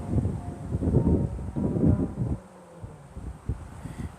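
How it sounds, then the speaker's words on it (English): Low, buffeting outdoor wind gusts rumble against the microphone at Berry College, Rome, Georgia, loud at first and then easing to softer, intermittent thumps. "it's windy out here. Sorry about that."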